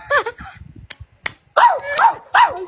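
A dog barks three times in quick succession, loud and close, after a short stretch of higher yips and light thumps.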